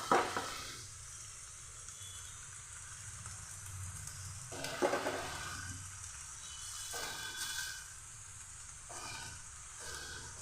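Cooked basmati rice being mixed with ghee-fried onions in a pan, with a steady hiss of frying and periodic scraping strokes of the spoon, heard up close with no talking.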